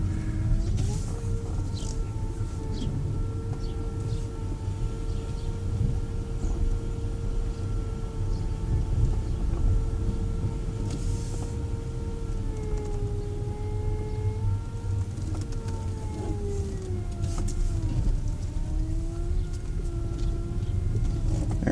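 An electric-converted BMW E39 running on a 32-volt motor drives along, giving a steady whine whose pitch rises and dips with speed over a constant rumble of road and cabin noise.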